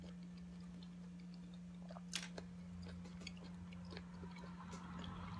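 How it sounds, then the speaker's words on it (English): Someone slowly chews soursop fruit, producing faint, sparse wet clicks and soft crunches close to the mouth over a steady low hum, with no talking. "But look at me, I'm still chewing."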